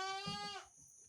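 A single close goat bleat during milking, a loud nasal wavering cry that cuts off abruptly into quiet barn background.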